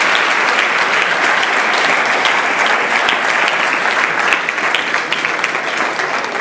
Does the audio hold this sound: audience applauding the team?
yes